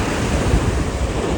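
Strong sea waves surge and crash onto the shore at Vizhinjam, where fishermen wait to launch a boat. The roar is loud, close and continuous, with wind buffeting the microphone.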